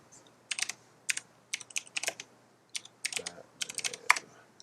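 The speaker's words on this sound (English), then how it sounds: "what you're hearing is my mechanical keyboard" Clicky mechanical keyboard keys clatter in quick irregular bursts, close and crisp, with brief pauses between runs of typing.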